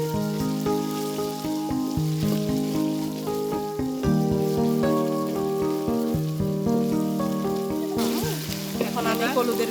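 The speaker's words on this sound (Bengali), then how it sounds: "পেঁয়াজ সামান্য ভাজার পর দেয়া হচ্ছে আদা বাটা আর রসুন বাটা।" Onion fries in a wok with ginger and garlic paste and is stirred constantly, giving a steady sizzle. Loud tonal music plays over it for the whole stretch.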